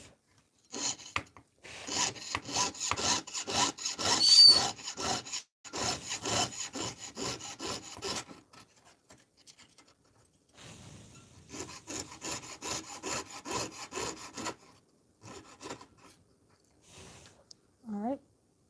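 A saw rasps back and forth through copper in quick, regular strokes, two long bursts separated by a pause, close and fairly loud, with brief talk and a faint bird chirp near the end.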